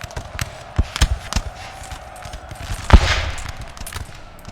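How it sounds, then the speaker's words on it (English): Russian infantry open fire in Napoleon Total War, a ragged string of musket shots crackling at uneven intervals, with one louder, closer report standing out midway among the scattered fire. "The Russians opening fire early on these Frenchies,"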